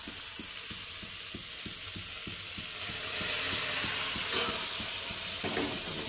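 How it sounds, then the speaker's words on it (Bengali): Onions fry with tomato in a pan, giving a steady close sizzle while a spoon stirs in quick regular scraping strokes that run through the whole stretch, with no voices. "পেঁয়াজ ভাজা ভাজা হচ্ছে যে, হ্যাঁ হচ্ছে, কিন্তু লেগে গেছে।"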